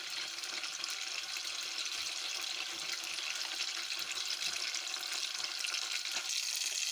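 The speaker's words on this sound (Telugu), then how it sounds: "ఆయిల్ బాగా కాగింది, జీలకర్ర కూడా వేగిపోయింది. ఉల్లిపాయలు వేస్తున్నాను." Chopped onions fry in hot oil with cumin seeds, making a steady, close, continuous hiss and crackle with faint stirring and no talking, as for a curry of ridge gourd and fresh prawns.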